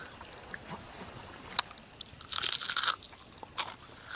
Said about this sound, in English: Oh, he's The eating. dog's eating it now. Yeah, the dog's eating it.